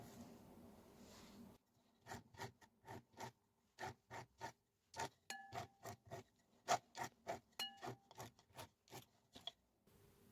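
Metal file rasping along the edge of a handmade ring, about two dozen short, evenly paced scraping strokes, close and crisp against a quiet background.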